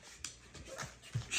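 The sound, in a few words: puppy whimpering during shots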